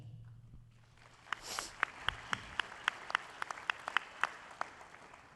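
Sparse, scattered clapping from a small audience at a community show band concert, a handful of distinct claps spread over a few seconds, faint and somewhat distant, with a low hum fading out at the start.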